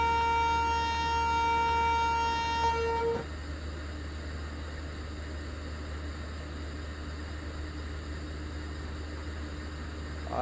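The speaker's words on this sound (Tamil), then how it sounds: "ஒரு லெவல் கிராஸிங் கிராஸ் பண்ணுறப்போ ஹார்ன் அடிக்கணும்" A train horn sounds at a level crossing in a train simulator game, a steady loud chord held for about three seconds before cutting off sharply into a low rumbling engine drone.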